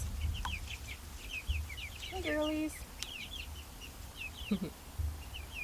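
Laying hens clucking and murmuring in a backyard coop, with soft repeated clucks and one rising squawk, while a woman briefly greets them over a steady low hum.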